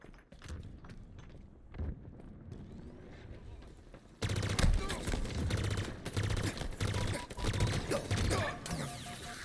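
Pulse carbine fire in the shooter video game Titanfall 2 during a Frontier Defense match. Bursts of rapid shots come in repeated clusters, growing louder after a quieter opening, with other battle noise mixed in.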